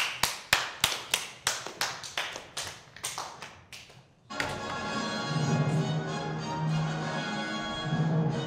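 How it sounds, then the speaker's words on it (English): Sparse hand claps from a small audience, about a dozen evenly spaced and close, slowly fading over four seconds before giving way to a steady broadband hum. "give a loud applause for Mr."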